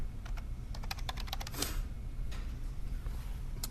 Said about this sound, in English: Now I can come down here and type my welcome.